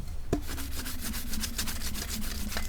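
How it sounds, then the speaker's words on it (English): A Dremel rotary tool sanding the rough edges of a tumbler, giving a close, continuous abrasive rubbing and whirring with short, repeated strokes. "I'll use my Dremel to get that down pretty good"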